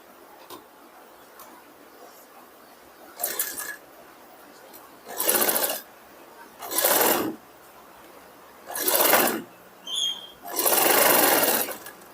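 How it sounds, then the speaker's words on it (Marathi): A sewing machine stitches a princess cut blouse in several short bursts of whirring with quiet pauses between them, each run lasting about a second, close and alone. "तर एकदम थोडस फिरवत इथे बघा अशा प्रकारे आपल्याला इथं शिलाई मारायची आहे"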